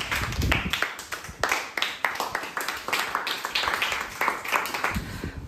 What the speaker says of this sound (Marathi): देवयानीसाठी पुन्हा एकदा टाळ्या वाजवा रे वाजवा